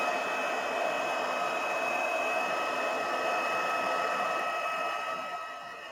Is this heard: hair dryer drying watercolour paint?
yes